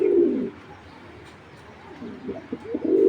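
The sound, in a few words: pigeon cooing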